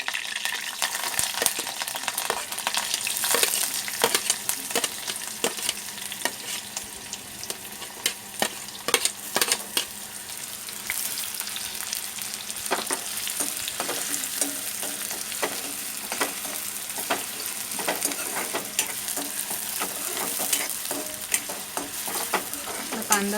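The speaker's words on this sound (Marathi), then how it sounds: "कांदा चांगला गुलाबी होईपर्यंत फ्राय करायचा आहे" Chopped onions fry in a pan for an egg curry, a steady loud sizzle with frequent crackles and scraping stirs throughout, close up with no talking.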